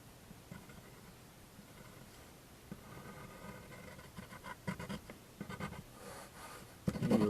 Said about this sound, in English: And you write your equation.